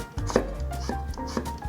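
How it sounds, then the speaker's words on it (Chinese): A knife chops a carrot into thin shreds on a cutting board, a quick series of crisp, close knocks with uneven gaps and no voices. "把红萝卜切丝"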